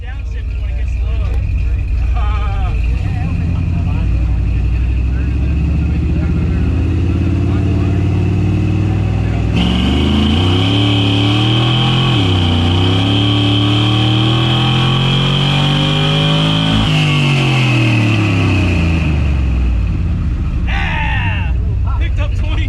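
A C10 truck's engine revs hard on a hub dyno at a truck show, a loud sustained roar that climbs in pitch through several shifts and then falls away, with people talking over it.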